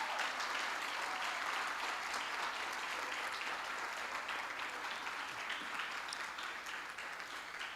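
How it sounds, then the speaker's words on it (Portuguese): Church congregation applauding, a steady wash of many hands clapping that fills the space and slowly fades toward the end. "Pode aplaudir ao Senhor?"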